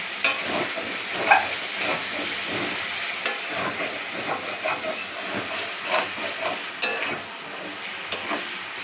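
Loitta fish frying in a pan and being stirred, a continuous hissing sizzle broken by repeated scraping and tapping strokes of the spatula, moderately loud and close.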